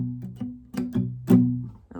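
Muted acoustic guitar strumming with the palm resting on the strings, a run of damped chords in a choppy down-up rhythm, close and fairly quiet, each strum cut short.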